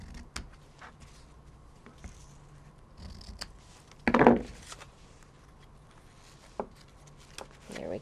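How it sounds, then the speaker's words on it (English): A single short snip of scissors trimming the loose end of a knotted string, heard once near the middle amid quiet room tone and a few faint clicks and taps. "and just trim it down"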